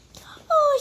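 A brief, high whimper from a puppy, thin and plaintive, following a faint rustle; short and fairly close.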